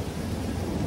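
Thunder rolls low and dense through heavy rain, a brief burst of storm rumble with a steady wash of rainfall behind it.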